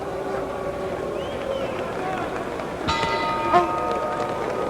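A boxing bell rings to end the fight between Rubin 'Hurricane' Carter and James Ellis, a short clang partway through, heard over a steady roar of crowd noise in the arena.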